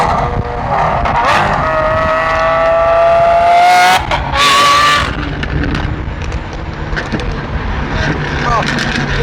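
Twin-turbo Ford F150 race truck engine running loud and close, its exhaust popping and crackling as it spits flames, with a steady roar and tire-squeal-like whines while people talk over it.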